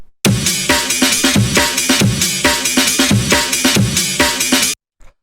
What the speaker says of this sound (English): So this is a rave breakbeat.